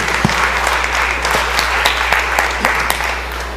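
Applause from members filling the Mississippi House of Representatives chamber, loud and continuous with sharp individual claps over a low steady hum.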